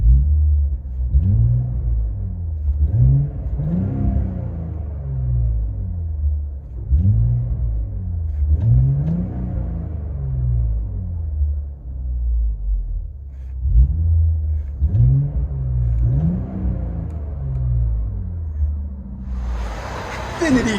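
Inside the cabin of a 2019 Infiniti Q50 with a 3.0L V6 and a Stillen cat-back exhaust, the engine revs repeatedly in deep rising and falling surges, with a burst of noise at the end.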